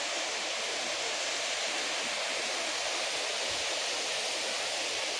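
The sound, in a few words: Tatiguda waterfalls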